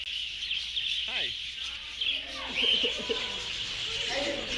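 Birds at an interactive walk-through display in a Texas wildlife park give soft coos and chirps amid a busy background hum, with people talking nearby.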